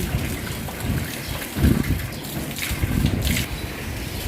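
Steady rain falls in cold weather, a dense, even hiss with occasional heavier patter and light wind buffeting the microphone, fairly close and continuous throughout.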